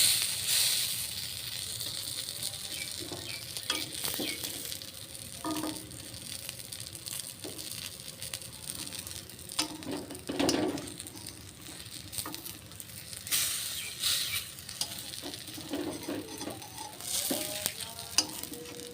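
A spiced rice-flour mixture with nigella seeds fries in a pan, a steady close sizzle broken by repeated scraping and stirring strokes, with no talking.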